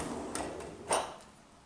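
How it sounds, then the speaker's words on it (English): A kitchen drawer in a rented apartment slides open with a short scraping rattle and a faint clink, heard close and fairly quiet against the room's background hush. "A drawer."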